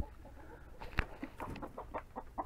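A backyard chicken clucks in a series of short, close, irregular calls, with a sharp tap partway through and faint background noise.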